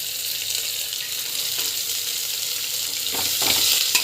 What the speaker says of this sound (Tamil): ஜஸ்ட்டு வந்து வதக்கிக்கோங்க